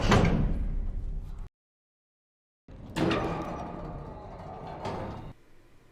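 A door slides and closes in a Falcon and the Winter Soldier action scene: a loud rushing burst, a sudden silence, then another sliding rumble and a thud that fades away.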